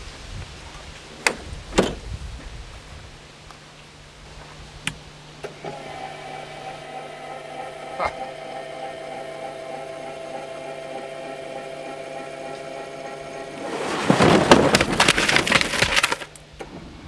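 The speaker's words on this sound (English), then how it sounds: "So let me show you how that dump feature works." Power dump bed on a Bobcat 3400 4x4 utility vehicle: a few sharp clicks, then a steady electric motor whine as the bed lifts, ending in a brief louder clatter and rush near the end, with no talk.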